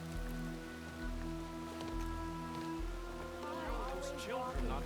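Rain patters steadily in Horizon Forbidden West, a soft continuous hiss beneath a low game music drone, with brief voices and ambient sounds rising near the end.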